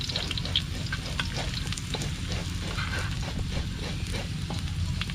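Onion and ginger fry in a hot pan with a steady, close crackling sizzle made up of dense popping spatters that last the whole time, with no voices.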